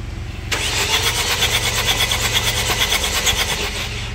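A car engine cranked by its electric starter, a loud steady grinding churn beginning after a brief pause and running continuously without catching, close up and with no voices.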